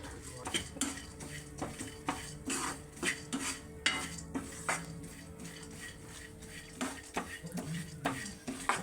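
Sunflower seeds roasting in a pan for dry fruit laddu are stirred with a metal utensil, producing repeated close scraping and clinking against the pan over a soft sizzle.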